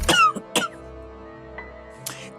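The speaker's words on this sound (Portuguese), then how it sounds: "Essa tosse." A sharp cough, then a second one shortly after, loud and close, followed by a quieter low hum and fainter noises.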